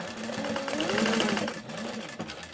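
A sewing machine runs in a fast, steady whirring burst as it stitches backpack fabric for a fully lined mini backpack, close and clear, slowing and stopping near the end with no talking.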